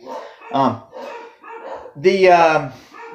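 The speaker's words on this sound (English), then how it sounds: "If you hear the dogs barking, they're barking at somebody." Dogs bark in a few short bursts, mixed in with a person talking nearby at a moderate level.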